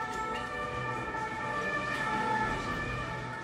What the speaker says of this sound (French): J'entends des pimpons, des sirènes de voitures, de police